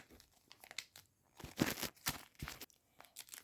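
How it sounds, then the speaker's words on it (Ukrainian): A perforated paper surprise packet with a parchment liner is torn open, giving a few short crinkling rips and papery crunches, close and fairly quiet, with small gaps between bursts. "О, перфорація спрацювала доволі добре. Ну, вона якось так зі звуком відкрилася."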